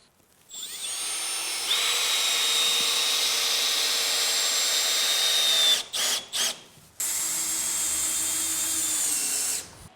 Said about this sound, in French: On va pouvoir maintenant visser le poteau.